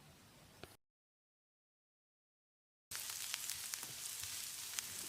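Chopped onions with a pinch of asafoetida sautéing in a pan, a steady close sizzle with small crackles that cuts out briefly and then returns louder.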